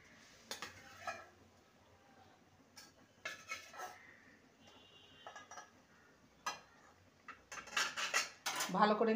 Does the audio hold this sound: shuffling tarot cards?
no